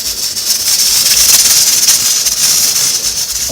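A steady, loud hiss of steam with faint rattling of a pot lid jiggling over boiling rice in a campervan kitchen, continuous and close.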